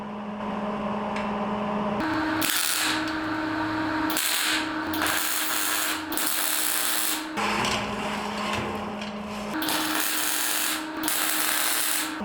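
Clamp tightened onto a steel plate in a metal shop, a series of faint metallic ratcheting and scraping bursts with short pauses between them, heard alone.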